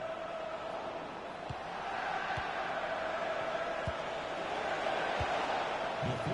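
A stadium crowd in a soccer video game gives a sustained, swelling ooh over steady arena murmur, rising in volume partway through and holding loud, fairly distant and broad.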